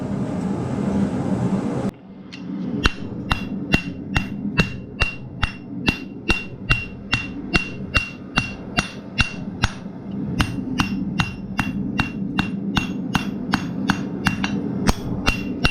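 A blacksmith hammers a shepherd hook flat, keeping it square: after a brief lead-in, a long run of steady, evenly spaced ringing hammer blows, loud and close, with no talking.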